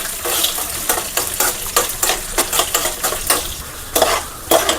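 A spoon stirs and scrapes through nuts frying in ghee in a pan for a beetroot sago payasam, giving repeated metallic clinks and scrapes over a soft, steady sizzle, with no talking.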